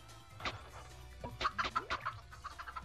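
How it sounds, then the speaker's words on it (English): Chickens clucking in the video game Nickelodeon Party Blast, a few short clucks and squawks in quick bursts, fairly close and clear, with no talk over them. "I hear chickens. Those are the chickens in the thing."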